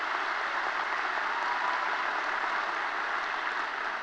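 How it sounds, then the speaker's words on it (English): High school graduation ceremony audience applauds in a continuous, even wash of many hands clapping in a large hall, steady and unbroken from start to finish with no speech. "let's give them a round of applause"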